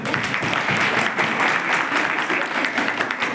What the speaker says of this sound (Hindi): एक तालियां अपने लिए बजा दीजिए